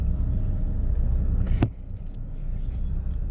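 A Honda CR-V drives along a road, its steady low engine and tyre rumble filling the cabin, with a brief sharp knock midway before the droning hum carries on.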